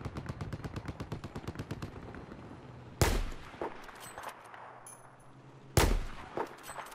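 Gunfire from a Battlefield 4 multiplayer match: a rapid automatic burst rattles for about three seconds, then two loud sharp single shots ring out a few seconds apart, each trailing off, with no talk over them.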